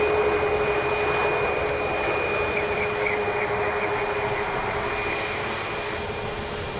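A WestJet airliner at Edmonton International rumbles loudly and steadily with a thin whine above the roar. It sounds fairly close and fades only slightly over several seconds, with no talking.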